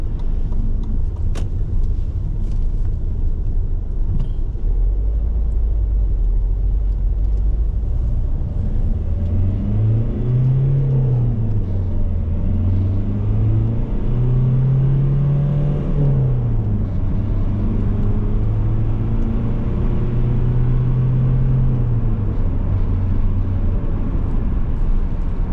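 An MG ZT-T CDTi diesel estate car drives steadily, a continuous low engine drone with gentle rises and falls in pitch as it gathers speed, close and loud throughout with road rumble and no talking.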